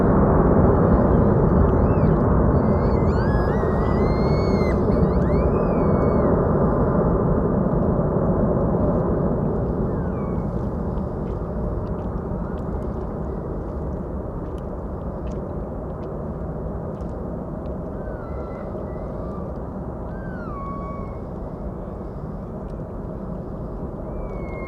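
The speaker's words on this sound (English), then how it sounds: "Reversers are still spooling." A large airliner rolls out after landing at Amsterdam Schiphol, its thrust reversers roaring loudly at first and then slowly easing into a broad, fading engine rumble, with faint bird chirps on top.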